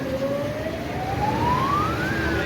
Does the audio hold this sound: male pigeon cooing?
no